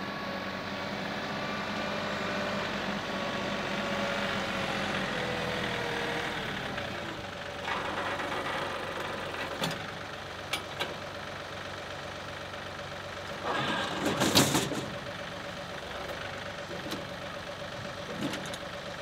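A tractor engine idles and runs on a rural property before stump grinding, a steady mid-low drone that fades partway, followed by scattered knocks and brief louder bursts near the end.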